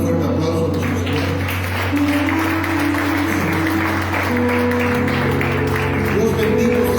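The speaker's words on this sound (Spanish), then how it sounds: "Vamos a dar un fuerte aplauso a nuestro Señor." A church congregation breaks into loud, sustained applause during a sermon, the clapping blending with music and voices in the room.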